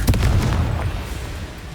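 A Confringo spell explodes in Hogwarts Legacy with a loud fiery boom and a crackling burst, then a rumbling decay over about a second and a half, with no talking.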